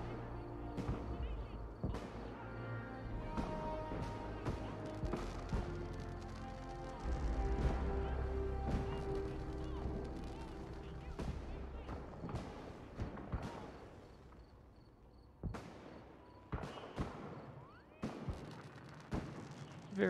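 Fireworks display at night in the video game Fallout 4's Nuka World park, with repeated sharp bursts and booming pops in irregular clusters over a dense musical and ambient background, growing more sparse and punchy toward the end.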